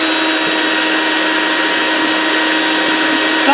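A 1980s IBM service vacuum runs continuously with its hose disconnected, a steady, loud whining motor drone throughout with no talk over it.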